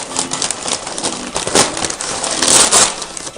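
Packaging paper from an Innisfree skincare order is crumpled and crushed up close during unboxing, loud crackling bursts that rise and fall over a few seconds, with no talking.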